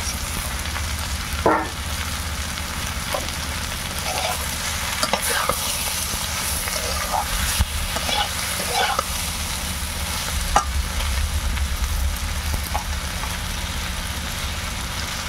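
Vegetables for a village-style Bengali labra curry fry over lowered heat in a pan, a constant low sizzle with occasional stirring knocks and scrapes close by, no speech.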